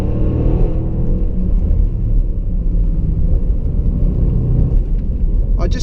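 A 2016 Range Rover Sport SVR engine roars steadily and loud under hard acceleration, a dense low rumble filling the whole stretch with no talk over it.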